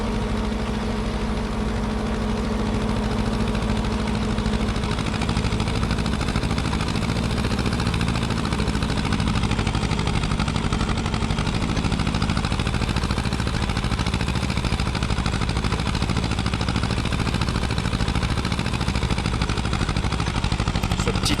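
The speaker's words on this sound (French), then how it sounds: "Ce petit tracteur là les amis," A Renault tractor engine idling in the video game Farming Simulator 25, a steady loud mechanical drone with a low rumble that runs unbroken for about twenty seconds, with no talk over it.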